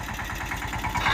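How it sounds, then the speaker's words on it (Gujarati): A tractor engine runs steadily in a mango orchard, giving a continuous, throbbing mid-to-low rumble at moderate distance. "આંબાની વાડીની અંદર ટ્રેક્ટર ચાલુ છે"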